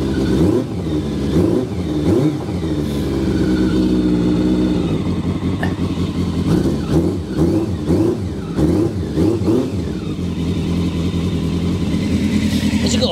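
A brand-new carburetted motorcycle engine runs close by and revs repeatedly, rising and falling in loud surges over a steady idle.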